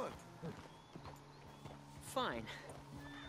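Horse hooves clip-clop in Red Dead Redemption 2, with a steady walking rhythm under characters talking, and a short whinny partway through.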